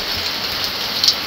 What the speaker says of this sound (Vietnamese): Đêm lại mưa y đùng tiếp.